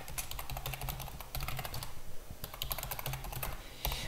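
Rapid, uneven clicking of keys on a computer keyboard, close by and steady, with short pauses between bursts.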